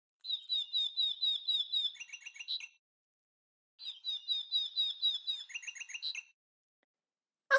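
A nightingale sings softly at sunset as a story sound effect: two bright, rapid trilling phrases separated by a pause, clean and isolated against silence.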